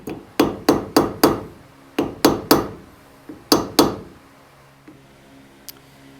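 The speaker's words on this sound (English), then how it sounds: "Our locking tabs are all peened over." Sharp metal hammer blows peen over locking tabs on the front suspension of a 1967 Porsche 911, quick bursts of three or four ringing strikes separated by short pauses, close and loud with no speech.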